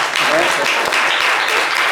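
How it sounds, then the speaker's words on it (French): Loud, close applause from a studio audience on a French-language Valentine's Day talk show, a continuous dense wash of clapping with faint voices underneath. "Applaudissez pour Igor"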